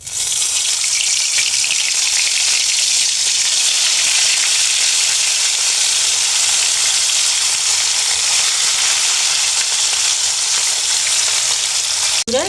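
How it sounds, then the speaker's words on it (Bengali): Pieces of hilsa fish fry in hot oil in a home kitchen, giving a loud, steady, dense sizzle that holds unbroken for several seconds before a brief clatter at the end; no one speaks. "আমি এখন পিসগুলো দিয়ে দেব, পিসগুলো ভেজে নেব।"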